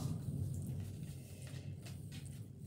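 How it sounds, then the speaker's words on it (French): Rain falling steadily during a stormy spell, a soft, even hiss with a low continuous rumble underneath that sounds like distant thunder, fairly faint and with no voices. "pour le moment ici, c'est la tempête"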